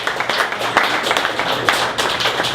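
An audience at a Nerd Nite talk night in Ann Arbor gives a round of applause, steady dense clapping from many hands throughout, fairly close and filling the room.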